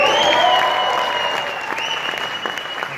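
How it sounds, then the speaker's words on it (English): Audience applause at a DAGCoin event, a loud burst of clapping from a crowd that slowly tapers, with a sustained electronic tone ringing beneath it. "Can we get an applause for that?"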